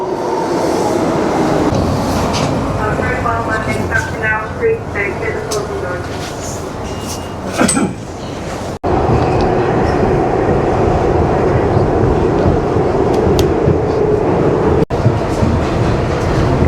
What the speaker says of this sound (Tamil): எப்படி வருது பாருங்கள் மெட்ரோ